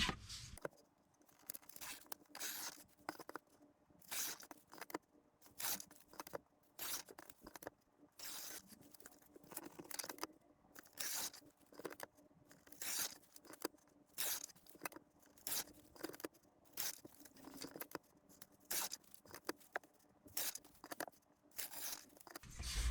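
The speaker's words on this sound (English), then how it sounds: "I'm going to tear these all down and speed it all up" Paper strips being torn one after another for DIY pocket bookmarks, a long sped-up run of short ripping bursts with brief gaps between them, close and fairly quiet.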